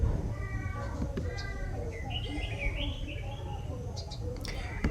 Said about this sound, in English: This is the barefaced go-away bird.